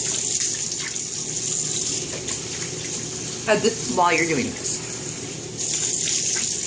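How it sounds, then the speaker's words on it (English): Tepid tap water runs steadily into a sink while a face is rinsed, with a splashing burst midway, and a person talks briefly over the flow. "Rinse. And I'm using tepid water"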